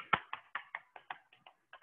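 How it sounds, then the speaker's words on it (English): Hands pat the thighs during a seated upper-body exercise session, giving a quick, uneven run of soft slaps, about a dozen in under two seconds, close and fairly quiet. "give your legs a bit of a pat down"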